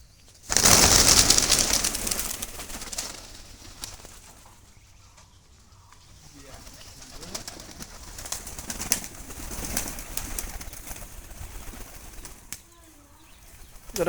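Wild pigeons coo and rustle nearby, with a burst of flapping wings at the start and soft cooing continuing throughout, no talking.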